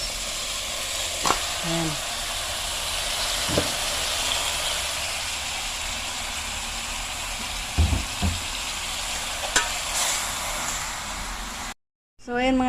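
Chicken sizzling in a hot pan for kinamatisang manok, a constant loud hissing fry with occasional clunks of stirring and brief spoken words over it, cutting out for a moment near the end.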